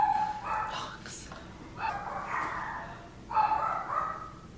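Dogs barking and yipping in three separate bursts at moderate distance, with a person talking at the same time.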